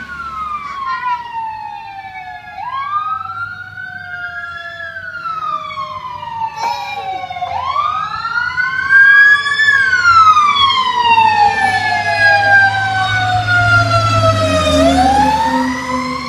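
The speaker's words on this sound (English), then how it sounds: "here come sirens again" Emergency vehicle sirens wail and sweep up and down as they pass, growing louder and overlapping with a low engine rumble before fading slightly, with no talk over them.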